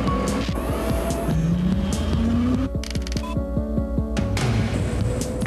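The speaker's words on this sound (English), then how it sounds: "Drive the intrigue with the new state-of-the-art 215-horsepower twin-cam V6 engine, delivering powerful acceleration when you need it most" Oldsmobile Intrigue 215-horsepower twin-cam V6 running with rising engine pitch sweeps and rhythmic mechanical pulses, loud and close, layered with music-like tonal elements and no talking.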